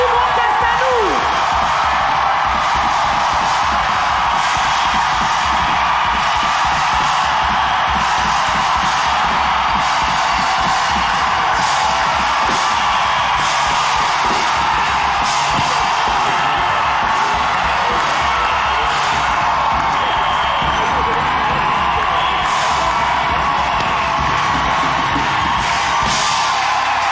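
Large conference audience in Paris applauding and cheering to welcome a pastor onto the stage, a loud, unbroken roar of clapping, whoops and shouts sustained for nearly half a minute.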